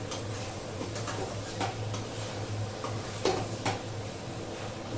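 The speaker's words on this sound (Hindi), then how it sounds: "बस ये चिकन मैं भून लूं, इसे चढ़ा दूं।" Chicken frying and being stirred in a pan, with a steady low sizzle and occasional clinks of a utensil against the pan throughout.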